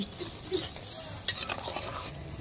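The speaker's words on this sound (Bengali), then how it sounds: "এখন ভালোভাবে মশলাগুলো এই জলের সাথে মিশিয়ে নিচ্ছি।" Spices stirred into water in a pot for rohu fish curry, heard as quiet, close spoon scrapes and a couple of light clinks against the metal over a faint simmering hiss.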